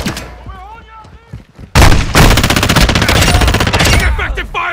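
Gunfire in the video game DMZ: after a quieter opening with a voice calling out, a loud sustained burst of rapid automatic shots erupts and keeps rattling, close and dominant, with shouted voices nearby.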